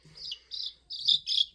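Week-old chicks in a brooder cheep in short, high-pitched bursts, four quick calls in a row, close and clear with no talking.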